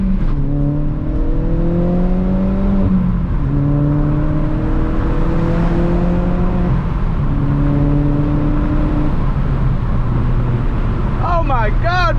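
A VW MK4 GTI 20th Anniversary Edition with a Forge 008 diverter valve pulls hard through the gears, engine note rising and dropping with each shift, heard from inside the car, with a turbo flutter near the end.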